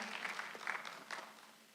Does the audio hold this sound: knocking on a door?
no